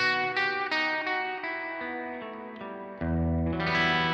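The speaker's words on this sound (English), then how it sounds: "I use it for the big cave reverb, which really is my favorite reverb" An electric guitar rings out through a big cave-style reverb pedal, a run of sustained, distorted notes blurring into one another in a wide wash before a fuller chord swells at the end, with no talking.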